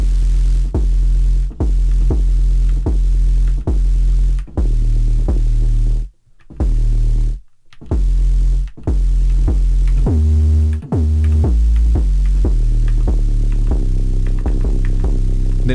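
Saw-style 808 bass notes throb in a bouncy repeating pattern, deep and loud, with a thin hiss of low-passed noise sizzle riding on top and brief gaps between some hits.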